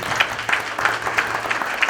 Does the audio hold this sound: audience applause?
yes